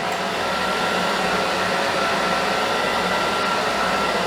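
A hair dryer blows steadily at close range, loud and unbroken, while hair is dried during a scissor-over-comb pompadour haircut.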